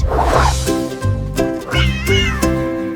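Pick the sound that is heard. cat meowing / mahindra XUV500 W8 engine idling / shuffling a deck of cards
cat meowing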